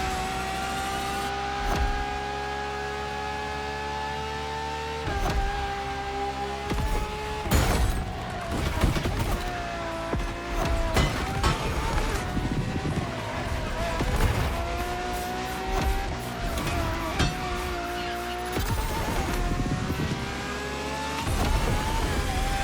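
A Ferrari LaFerrari hybrid supercar with an F1-style energy recovery system roars in The Crew Motorfest, its engine revving and shifting through gears with sharp bursts, tire squeals and skids, loud and close.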